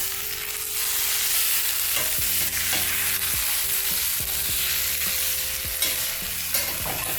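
Granulated sugar is stirred into a sizzling frying pan while cooking grilled cheese, with repeated scraping spoon strokes over a steady frying hiss.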